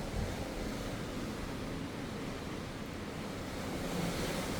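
Sea waves heard from a cruise ship balcony while out at sea: a steady, loud, broadband wash of surf mixed with wind rushing against the microphone, continuous throughout with no talking.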